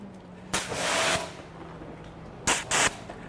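A pressure washer sprays water to rinse a Range Rover L460, heard as one longer hissing burst followed later by two short blasts, close, with quiet pauses between.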